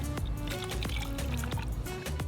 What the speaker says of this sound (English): Pour it over ice.